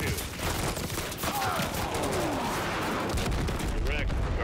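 Gunfire rattles in Modern Warfare III as a dense fusillade of rapid shots and booming impacts, loud and continuous, overlapped by a brief whistling sweep and some radio-style voices.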